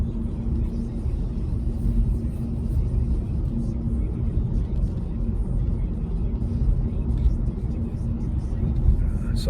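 Steady low car engine rumble with road noise while driving, a continuous droning hum with no voices.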